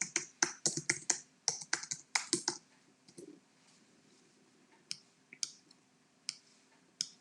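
Fingers tap on a computer keyboard in a quick burst of crisp, close clicks, then pause, followed by a few scattered single keystrokes in a quiet room.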